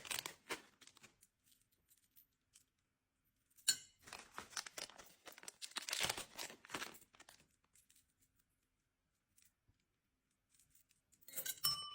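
Plastic packets of bracelets crinkle and rustle in several separate bursts of handling, close up and fairly quiet, with near silence between them.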